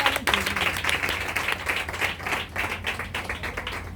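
A church congregation at a baby dedication service claps together, a dense, sustained wave of hand claps at fairly close range with some uneven bursts.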